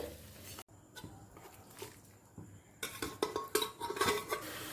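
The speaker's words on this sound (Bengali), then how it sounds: "এরপর আমি অল্প করে কিছুটা ভুজিয়া অন্য পাত্রে তুলে রাখলাম" Bhujia, a scrambled egg and onion mixture, being spooned from a pot into another bowl, with a series of close metallic scrapes and clinks of a spoon against the vessels.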